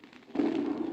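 A single distant cannon shot fired from a ship lands as a sudden low, muffled boom that swells and rolls on as a sustained rumble after a quiet start.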